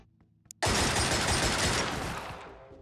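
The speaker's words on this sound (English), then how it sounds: "We take a lot of shots at this thing" Sustained burst of automatic gunfire from the video game Xenonauts, starting abruptly after a few faint clicks and roaring continuously at full loudness before slowly tapering off, with no voices.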